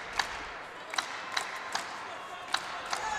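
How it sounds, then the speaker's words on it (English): Crowd at a college wrestling match in a field house, Northwestern at Wisconsin, keeps up a steady roar punctuated by sharp bursts of shouts and claps every half second or so, with voices nearby. "Crowd here in the field house getting behind Jimenez."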